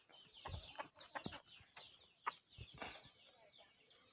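Breeding chickens, roosters and hens kept together, cluck in a quiet yard with scattered short bursts and a few sharper calls at irregular intervals, faint and a little distant.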